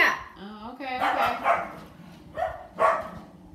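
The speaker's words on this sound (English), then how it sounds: "you got the guard dogs barking, you can hear that" Guard dogs bark and yip in a few short bursts, somewhat distant and moderately loud, with a brief higher whine at the start.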